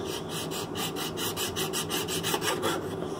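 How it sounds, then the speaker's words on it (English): A hand rasp shaping a wooden pinewood derby car, with rapid, regular scraping strokes that sound loud and close, continuing without a break and with no talking. "I call this a file. File, rasp."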